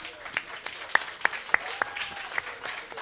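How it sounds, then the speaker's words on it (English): Scattered claps from a small group honoring military members from Fort Hamilton in Brooklyn, New York, at a Jets radio show on Veterans Day; a handful of distinct hand claps spaced irregularly over a soft room murmur. "Give them a round of applause."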